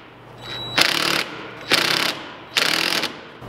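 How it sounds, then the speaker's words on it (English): Impact wrench tightening a hose clamp around an air filter on a cowl intake install, three short rattling bursts of about half a second each with brief pauses between, close and fairly loud. "I'll just reach down in here at the impact and tighten things up here delicately"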